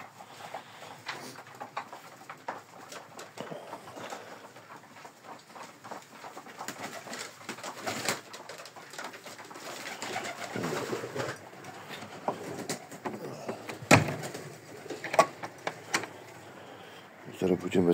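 Racing pigeons coo and shuffle inside a loft, soft repeated calls with wing flutters and scratching, fairly faint with occasional louder bumps and someone talking at times.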